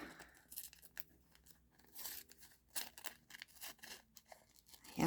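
Scissors snip through a sheet of waxed paper at a craft table, giving repeated crisp crinkling cuts in irregular bursts, close and moderately loud with no talk.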